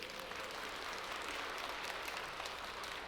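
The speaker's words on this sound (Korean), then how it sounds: "우리 선교사님들 격려 박수." A church congregation applauds its missionaries during a Sunday worship service, a dense, steady wash of clapping throughout, heard faint and distant.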